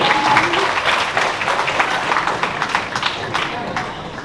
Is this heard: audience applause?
yes